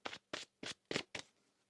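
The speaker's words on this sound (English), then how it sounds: "One more shuffle here." Five quick riffle-shuffle bursts of tarot cards, crisp and close, each a short papery flutter with brief pauses between, ending in a light tap.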